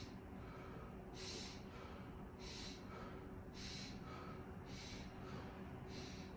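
A patient breathes deeply during a lung exam, five close, airy inhalations and exhalations in a slow, regular rhythm, with quiet pauses between each breath.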